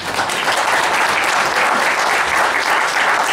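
An audience at a university business school lecture applauds a visiting National Assembly member, a steady, full burst of many hands clapping at close range throughout.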